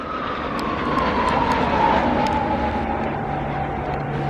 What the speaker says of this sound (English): next up, we're seeing the aircraft's high-speed capabilities